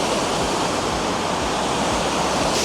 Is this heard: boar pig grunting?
no